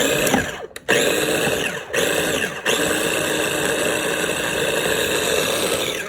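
A blender whirs steadily while blending avocado dilly dip, loud and close, with a couple of brief dips as the motor stutters before settling into a continuous drone.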